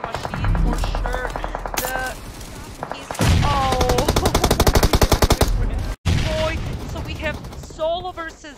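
Rapid automatic fire from a Beryl rifle in PUBG Mobile rattles loud and close in sustained bursts. Game effects and a voice break in around the shots.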